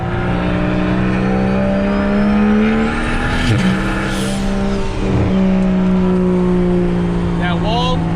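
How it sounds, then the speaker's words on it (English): A BMW 335i engine revs hard and drops back, its loud, close exhaust tone echoing off a wall beside the road, with tonal rises and falls as it accelerates. "That wall makes that sound echo."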